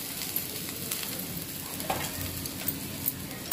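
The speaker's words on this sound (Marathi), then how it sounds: "हळद, हिंग हलवून घेते" Turmeric and asafoetida are stirred in hot oil, a soft, even sizzle with a few light spoon taps and a sharper clink at the very end.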